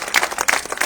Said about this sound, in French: on peut les réapplaudir de suite